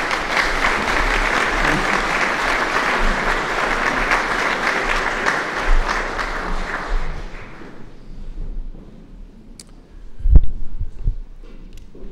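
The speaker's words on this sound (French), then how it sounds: "Vous pouvez les applaudir tous les deux." Audience at the 2012 Chaptal award ceremony in Paris applauds steadily for about eight seconds before the clapping dies down, leaving quiet room noise with a few thumps.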